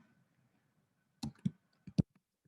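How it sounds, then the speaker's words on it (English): A few faint, sparse clicks from typing on a computer keyboard: four soft keystrokes in quick succession after a moment of near silence, close and quiet. "We'll just type that in."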